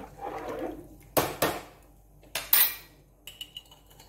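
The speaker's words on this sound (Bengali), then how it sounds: "এটা নেড়ে দিচ্ছি" Rice stirred in a pan shows up as a few distinct spoon knocks and scrapes against the metal, spaced irregularly with brief quiet gaps, close and clear with no talking.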